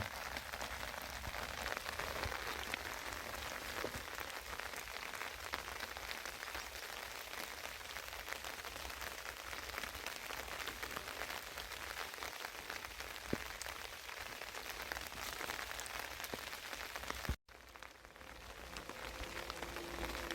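Steady rain falling outdoors on spring plants in a field, a dense soft patter with occasional louder drops, constant and close, with no voices.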